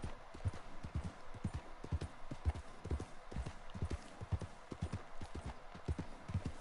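Horse hooves clip-clop steadily in the Red Dead Online video game, a quiet, even walking rhythm of distinct close thuds continuing throughout with no talking.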